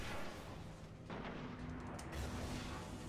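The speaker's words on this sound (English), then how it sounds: "Take a couple of rockets and put them in the middle of those Psions." Rockets from the Destiny video game burst among a group of Psions, giving a dense, rumbling roar of explosions with a fresh heavy boom about a second in, loud and continuous throughout.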